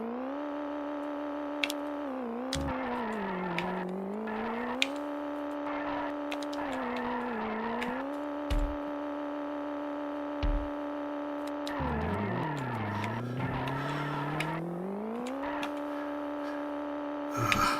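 Computer-controlled toy race cars drive in the SNES game Micro Machines 2, giving steady synthesized engine tones that slide up and down in pitch as the cars speed up and slow, with a few short thuds.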